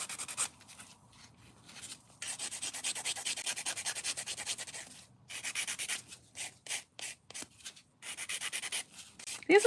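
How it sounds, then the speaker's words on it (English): A nail file rasps back and forth over glitter overhang on a narrow stiletto acrylic nail, close up, in steady bursts of strokes with brief pauses between them and no talk. "some glitter overhang, so I am filing that away"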